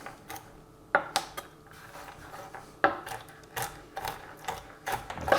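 Roasted, peeled hazelnuts get coarsely crushed in a kitchen, heard as sharp irregular knocks and crunches with clattering utensil sounds between them. No one speaks.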